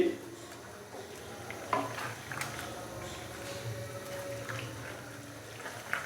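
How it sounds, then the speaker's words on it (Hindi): Chicken and shimla mirch (capsicum) are sautéed in a pan, with a soft steady sizzle and occasional stirring scrapes and clatter, quiet and close. "तो अभी हम इसको भून लेंगे मज़ीद 3 से 4 मिनट के लिए।"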